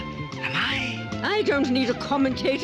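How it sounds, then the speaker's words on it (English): A cat meows a few times with rising and falling cries, heard under people talking in a staged scene. "A cat. I recognize that cat."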